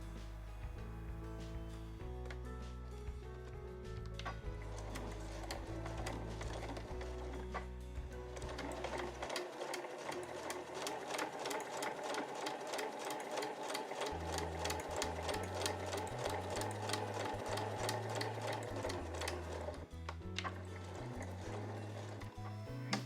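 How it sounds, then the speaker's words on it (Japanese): A sewing machine stitches along folded tatami edging fabric in a steady, fast mechanical whir with rapid needle ticks, running continuously and close with a brief change in tone midway. "この際の部分を縫います。"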